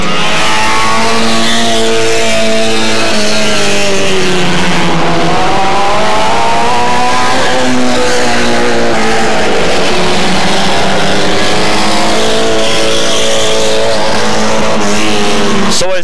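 Hot-rod race cars roar around a track in a 1996 race, engines loud and close with rising and falling revving pitch sweeping past over the whole stretch, a commentator's voice partly beneath the engine noise.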